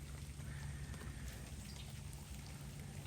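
Steady rain falls on a farm barn on a wet, muddy day, a constant even hiss of drops with no pauses and no voices.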